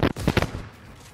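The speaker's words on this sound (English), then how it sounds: "I'm blind firing in the bush." A quick burst of three or four close gunshots from the video game Fortnite, fired blind from a bush, followed by a short decaying tail.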